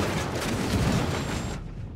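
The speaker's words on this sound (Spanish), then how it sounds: "Mira que la explosión del helicóptero me ha matado." Helicopter blowing up in the video game Ghost Recon: a loud, sustained broadband roar of blast and rumbling debris for most of the clip, ending in a sudden cutoff.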